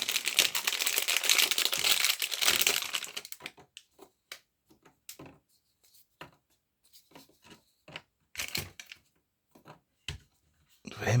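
A plastic bag crinkles and rustles loudly at first, then gives way to sparse, scattered crackles and taps with quiet gaps between them.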